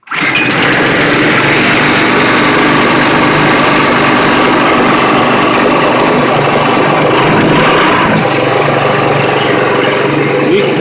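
A push mower engine drives an alternator generator, running loud and steady throughout with a sustained motor drone that sags slightly in pitch as the load kicks in, with no talking.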